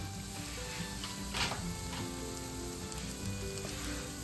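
Ground spices including cayenne red pepper sizzle steadily in a hot pan while cooking for Indian butter chickpeas, a constant dense crackling hiss with one brief louder flare and no talking.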